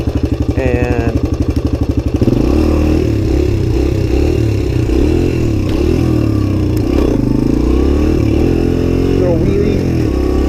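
A Suzuki DR-Z 125 pit bike engine is loud and close. It putters rhythmically at idle, then revs up hard in first gear into a sustained, wavering roar, and voices speak briefly over it.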